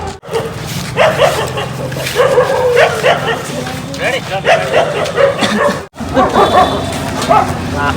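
Dogs bark and yip repeatedly in short bursts across a busy outdoor scene in Patan, mixed with steady loud chatter and background noise throughout.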